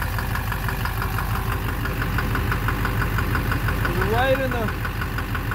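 Duramax LMM diesel engine idling with a rhythmic knock in the bottom end, a steady repetitive tapping over the engine drone, heard up close while someone speaks briefly.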